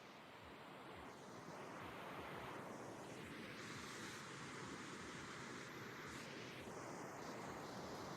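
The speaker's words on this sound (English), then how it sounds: "Water sound." Rushing waterfall water in a video game, a steady broadband roar with a hissing wash that stays loud and continuous throughout, with no voices over it.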